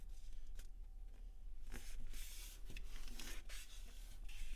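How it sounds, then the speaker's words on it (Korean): Paper is creased and folded by hand for origami, with soft rubbing, scraping and crinkling strokes close to the microphone, quiet and intermittent over a low steady hum. "여기에서 뒤집은 다음에 이 부분이 여기에 만나도록 이렇게 접어주세요."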